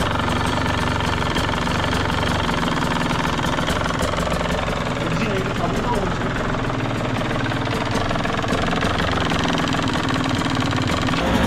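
A KTM 125 SX two-stroke motorcycle engine with a freshly replaced piston idles steadily, its dense buzzing drone running unbroken and loud throughout, with no speech.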